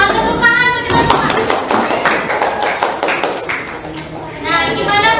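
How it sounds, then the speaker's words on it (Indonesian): A school class breaks into a short burst of loud, scattered hand clapping in a classroom, with voices speaking just before and after it. "Selamat tepuk tangan untuk kita semua."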